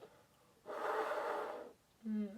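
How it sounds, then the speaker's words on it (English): A quick, noisy inhale breathed in with audible resistance during a trombone lesson, close and airy for about a second, followed by a short voiced sound. "you can really hear like if you're breathing in quickly"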